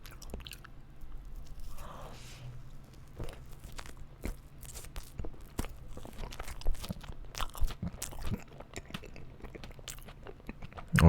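Someone takes a bite of a whole-kiwi fruit sandwich and keeps chewing, giving close, irregular crunchy and squishy mouth sounds, with a louder bump at the end.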